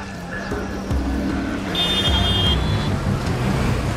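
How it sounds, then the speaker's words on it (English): Dense road traffic in gridlocked Lagos, Nigeria: a steady roar of engines with idling rumbles, a passing vehicle and a brief high horn-like tone, heard continuously at street level. "Traffic gridlocks the streets"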